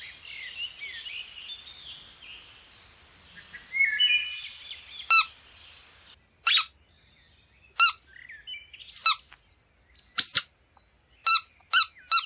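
A small bird perched on a nearby branch calls in short, sharp chirps spaced irregularly after some softer warbling, clear and close against near silence.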